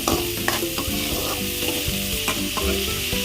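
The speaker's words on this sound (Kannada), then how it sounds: "ಈರುಳ್ಳಿ ಎಲ್ಲ ಚೆನ್ನಾಗಿ ಫ್ರೈ ಆಗಬೇಕು" Onions fry in a pan for a mixed leafy greens stir-fry, a loud close sizzle broken by repeated scraping and stirring knocks of a spatula, with no voices.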